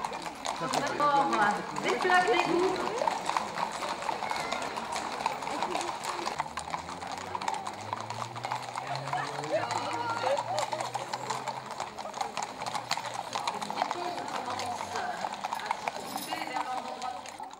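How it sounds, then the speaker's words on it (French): Around 250 horses, ponies and donkeys parade on town streets in Lamballe, their hooves clip-clopping steadily and continuously under a narrating voice and crowd noise. "environ 250 chevaux, poneys et ânes font résonner le sol de la ville de Lamballe"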